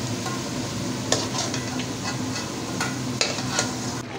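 Fried potatoes scooped out of hot oil, a continuous close sizzle broken by a few sharp metallic scrapes and knocks of a spoon against the pot.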